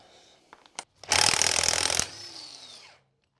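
Work on a Volkswagen Beetle engine with a 36 mm socket: a few light clicks and knocks, then about a second of loud, harsh grinding and rattling from the tool. It cuts off abruptly, leaving a faint fading whine before silence.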